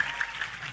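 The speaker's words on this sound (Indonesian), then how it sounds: "Tepuk tangan yang meriah dong semuanya." Brief burst of applause from an audience, with a steady wash of clapping that is moderately faint and lasts under a second.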